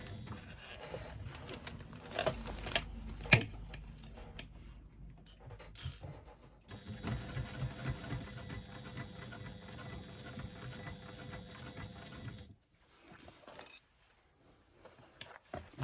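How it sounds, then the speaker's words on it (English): Domestic sewing machine slowly stitching a cotton lining gusset, a steady close whirring run of several seconds mixed with light clinks and handling sounds, then stopping. "It's only cotton, so you should easily be able to stitch it with any domestic machine."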